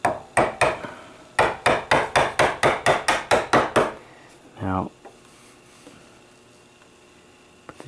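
A chisel set in a scribe line in wood is struck by a mallet in a quick series of sharp, evenly spaced knocks, about a dozen in a row after a couple of opening taps, followed by a brief scraping sound and then quiet.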